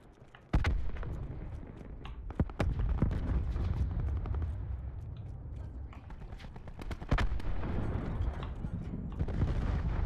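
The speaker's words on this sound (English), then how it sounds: "Cluster grenade going out." Cluster grenade explosions and gunfire in Black Ops 4 multiplayer: sharp bursts and booming blasts crack out at intervals over a steady rumbling battlefield background.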